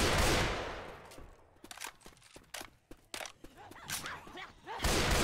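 Gunfire in Left 4 Dead 2 on the Riverside campaign: loud bursts of rapid shots open and close, with scattered sharp single cracks and short volleys in between.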